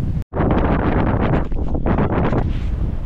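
Strong wind at the Puy de Sancy summit buffets the microphone in loud, roaring gusts after a brief dropout near the start, with no voices.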